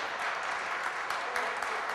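Basketball crowd applauding a substituted player at a Virtus Feletto versus UBC Latte Carso Udine game, a steady wash of clapping heard from a distance and filling the whole stretch.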